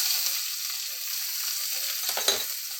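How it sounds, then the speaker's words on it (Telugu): Chopped onions fry in hot oil already tempered with mustard and cumin seeds, a close, steady sizzle with a brief burst of stirring near the end. "తాలింపు వేగింది కదండి ఇప్పుడు ఉల్లిపాయలు వేసేసుకుందాం ఇలా కట్ చేసుకుని"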